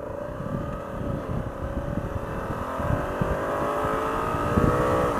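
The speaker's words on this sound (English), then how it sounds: "sports mode just holds and pushes the revs up higher, keeps it in gear longer" A 2016 Honda Africa Twin motorcycle with a DCT gearbox accelerates in sports mode, its engine droning steadily and rising in revs, held in gear longer as the road and wind noise grow. No one speaks.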